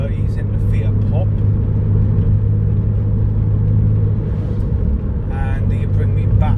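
A Porsche 911 cruising on the road, heard as a steady, continuous low engine and road rumble with little change in level throughout.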